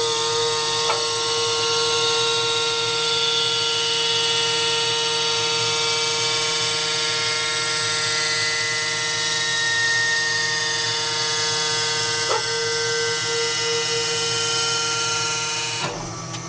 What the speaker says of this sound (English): so just sort of fold the power harrow